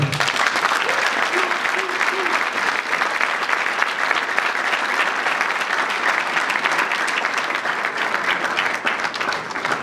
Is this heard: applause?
yes